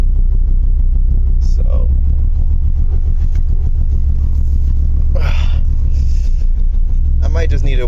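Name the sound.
1975 Mercedes-Benz 300D engine while driving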